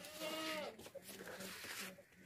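A plump, healthy dairy goat bleats in a quavering cry close by, followed by faint talk and shuffling at low level.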